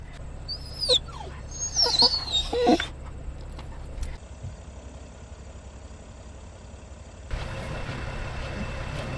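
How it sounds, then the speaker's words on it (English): Excited dogs whine and yelp inside a car during a road trip across South Dakota, a few high whimpers in the first few seconds over a steady idling engine hum. "The dogs are going a little crazy because they smell them all."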